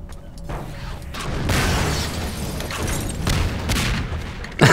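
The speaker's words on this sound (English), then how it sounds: "Exploding barrels." Heavy booming blasts from exploding barrels in the video game Half-Life 2, a loud rumbling explosion with debris crackle building over several seconds and a sharp burst at the end.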